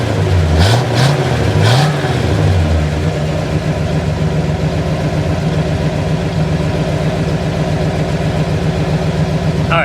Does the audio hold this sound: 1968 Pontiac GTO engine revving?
yes